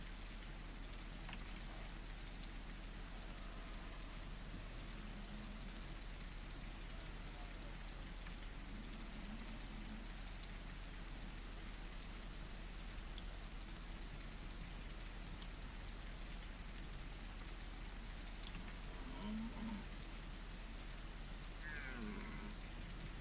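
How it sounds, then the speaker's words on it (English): Steady rainfall in the dinosaur survival game The Isle, a soft continuous patter with occasional sharp drip clicks and faint distant rumbles, quiet throughout with no one talking. "It's a bit spooky listening to these sounds in the rain."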